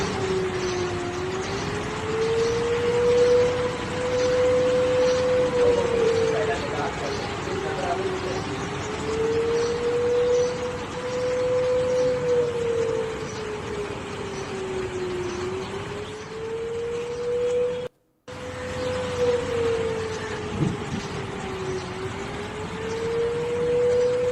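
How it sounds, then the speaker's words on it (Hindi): An air-raid siren wails over Islamabad, Pakistan, during a drone attack, in slow rising and falling cycles, steady and prominent over a dull background hum, with a brief dropout near the end. "ये वो सायरन है जो इस वक्त इस्लामाबाद के साथ साथ बाकी जगहों पर भी गूंज रहे हैं पाकिस्तान में।"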